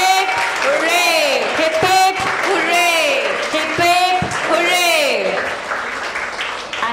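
Warm crowd applause for the SuperKiidz staff at an evening sports and annual day event, continuous steady clapping throughout with a voice leading cheers over it.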